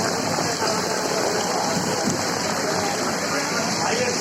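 Heavy rain pours down in Daryaganj, Delhi, a steady dense hiss that stays loud and close for the whole stretch with no break or lull.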